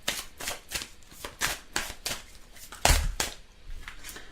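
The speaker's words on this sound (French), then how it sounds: "Je vais tirer d'autres cartes." Tarot cards being shuffled and drawn by hand: a series of soft, close riffling and slapping card sounds in an uneven rhythm, with one sharper snap near the middle, fairly quiet overall.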